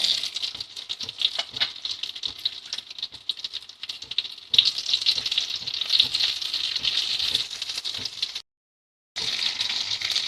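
Chopped onions for peerkangai chutney, cooked with dried red chilies and green chilies, sizzle and patter in a pan with dense crackling bursts that cut out briefly near the end before resuming.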